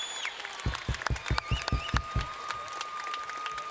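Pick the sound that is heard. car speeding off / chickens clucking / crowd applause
crowd applause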